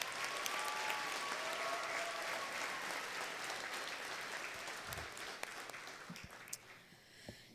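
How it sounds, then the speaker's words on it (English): Applause from a luncheon audience honoring youth speakers, sustained even clapping that slowly thins and fades near the end, with a few louder individual claps and no speech. "Let's give them one more round of applause."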